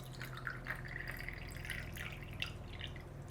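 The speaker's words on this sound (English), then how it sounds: "our last move is to pour water right here in the top" Water trickles and drips steadily into the top reservoir of a Temu coffee maker, a close, continuous splashy pour with small plinks throughout, alone.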